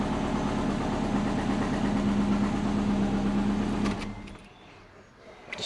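A twin-turbo Subaru engine idles steadily with a low, even rumble, then cuts off abruptly, leaving near silence with faint rustling.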